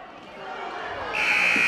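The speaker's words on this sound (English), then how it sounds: "And the buzzer sounds." A loud electronic buzzer sounds at the end of the half in a high school boys' basketball game, rising out of gym crowd noise and holding steady to the end.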